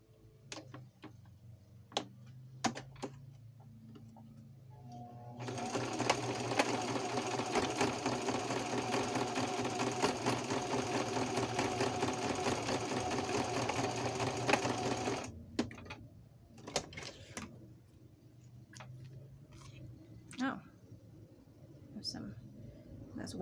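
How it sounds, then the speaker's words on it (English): Sewing machine running a straight stitch onto a library catalog card, a steady dense whir for about ten seconds, framed by soft handling noises and brief quiet before and after. "I'm just using a straight stitch to sew it on."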